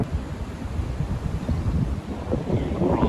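Wind blows at a river by Aldermaston Mill, a steady rushing buffet on the microphone with low rumbling gusts that swell and ease, heard alone without talk.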